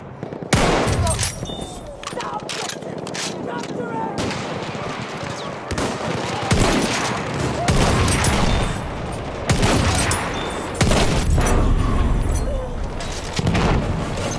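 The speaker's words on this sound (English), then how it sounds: "There's an enemy machine gun!" Near-continuous machine gun and rifle fire in the World War I shooter Battlefield 1, loud and close, with sharp shots and booms layered throughout and in-game voices shouting over the fire.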